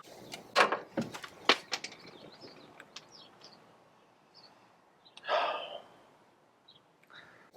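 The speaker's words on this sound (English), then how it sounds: "I dropped my socket over there." A metal socket wrench socket falls while work goes on around a Jeep Wrangler TJ's hood latch, giving a few sharp clinks and a bright clatter, then a softer rattling hiss a moment later, close and with no talk.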